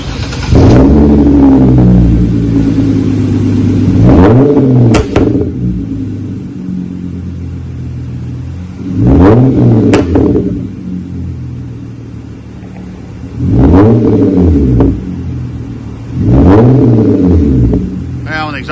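A 2013 Genesis car with a split Y-pipe dual exhaust revving at idle, four loud deep rumbling throttle blips rising and falling, spaced a few seconds apart over a steady idle drone.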